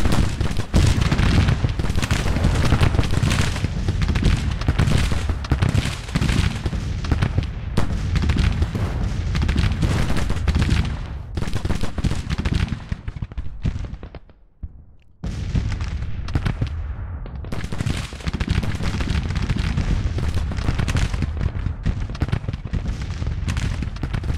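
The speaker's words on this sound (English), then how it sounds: "They are shooting at something." Sustained gunfire and cannon booms in a Civil War video game, dense volleys of distant and near shots rolling almost continuously, with a brief lull partway through.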